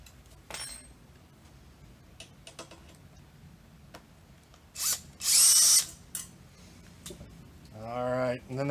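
Power tool backing out the bolt that holds a TAB Performance exhaust baffle, with sparse clicks and ticks followed by short bursts of whirring and ratcheting, one loud buzz in the middle and another at the end.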